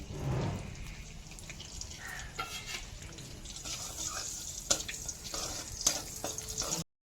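Whole garam masala of cloves, cardamom and cinnamon frying in hot oil for a mixed vegetable curry, a soft steady sizzle with light stirring clinks and scrapes, close and continuous with no talk.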